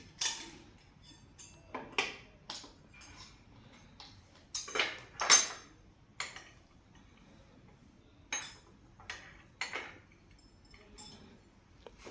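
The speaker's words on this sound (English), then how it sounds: "First of all, we'll open the lid." A series of sharp clinks and knocks, like a lid being worked loose from a ceramic or metal container, spaced irregularly with quiet pauses between.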